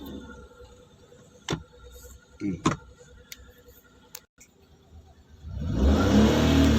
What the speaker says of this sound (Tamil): எஞ்சி வண்டியை ஸ்டார்ட் பண்ணு